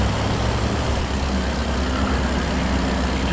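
Heavy truck engine in American Truck Simulator drones steadily and loudly throughout, a continuous low rumble with slight changes in pitch as gears are shifted and revs matched, with no voices.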